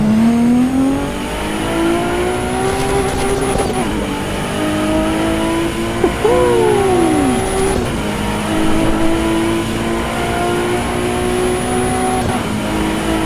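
Race car engine in Assetto Corsa Evo, revving and changing pitch through gear shifts with a brief sharp rise and fall midway, loud and continuous with no voices.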